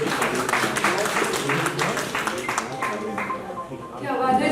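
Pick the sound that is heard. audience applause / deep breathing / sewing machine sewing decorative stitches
audience applause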